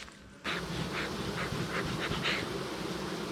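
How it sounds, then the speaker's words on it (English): Dense, steady buzzing of many bees trapped inside a beehive box during a beekeeping inspection with a bee escape, close and continuous after a brief quiet start, no talking. "there's like a bunch of pent-up bees in there"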